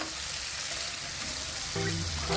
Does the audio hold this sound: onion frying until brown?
yes